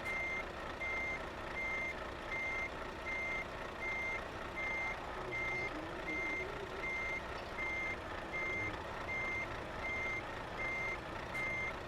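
A Volvo FH16 750 truck's reversing alarm beeps steadily in Euro Truck Simulator 2, in an even rhythm over a constant low engine drone.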